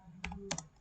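A command is tapped out on a computer keyboard in a quiet room, a few quick, close keystrokes clustered in a brief burst.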